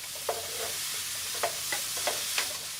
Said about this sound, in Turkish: Ve ısınan tavaya mantarlarımı koyuyorum.